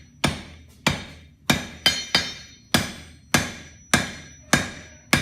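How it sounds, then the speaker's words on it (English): A blacksmith strikes hot steel with the rounded face of a hammer while jumping up the stock, giving about ten loud, sharp ringing blows in a steady rhythm close by, with no speech. "again using the rounded part of the hammer"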